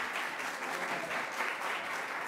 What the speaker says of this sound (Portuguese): Um aplauso para a Pâmela